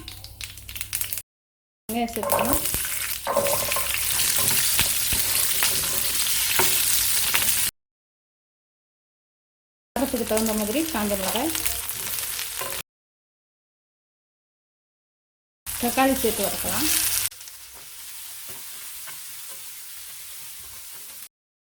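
Urad dal, mustard seeds and a small piece of asafoetida frying in a little sesame oil in a kadai, heard as a loud sizzling crackle in several separate bursts with silent gaps between them.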